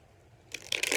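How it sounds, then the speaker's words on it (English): A deck of cards is shuffled close up, with a quiet start that breaks into a dense, riffling flutter of cards in the last half second. "And I'm still shuffling."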